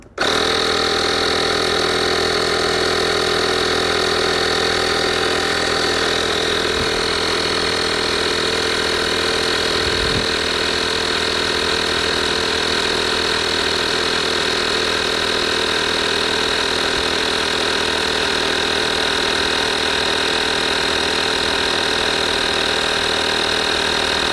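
A USB-powered tyre inflator pumps up a car tyre with a loud, steady motorised drone that holds unchanged for the whole stretch, with no talking.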